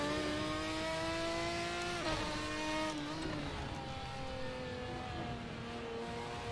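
A Ferrari 550 GT1 race car at Donington in the GTR2 racing game, its engine droning loud and steady with harmonic pitch shifts as it changes gear and revs, continuous throughout with no talk.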